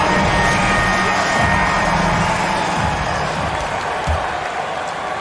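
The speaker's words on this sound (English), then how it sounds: "a big round of applause for your Knicks City Kid" A basketball arena crowd applauding during a Knicks game: dense, steady clapping and crowd roar filling the space, loud and continuous for a few seconds, with a faint hum of voices underneath.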